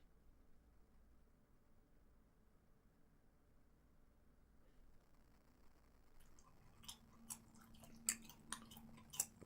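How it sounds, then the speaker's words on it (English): Someone chews food close to a microphone, faint at first, then a run of soft, moist crunches and clicks grows more distinct over the last few seconds. "you came right in with the chewing"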